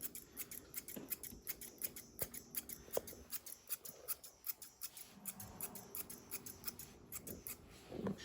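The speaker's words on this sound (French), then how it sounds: "Je vais prendre mon éminceur pour le filer" Thinning shears snip through a Doodle dog's coat while trimming the tail during grooming, a long run of quick, crisp metallic clicks in an irregular rhythm, close up and fairly quiet with no voices.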